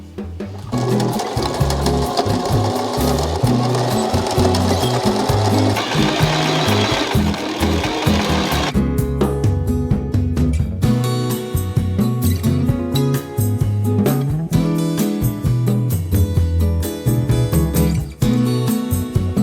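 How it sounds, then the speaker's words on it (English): Sewing machine stitching the seams of a patchwork cushion cover, a steady rapid mechanical whir that runs the whole time, loud and close, with short pauses and shifts in rhythm partway through. "Let's sew it and see how it turns out."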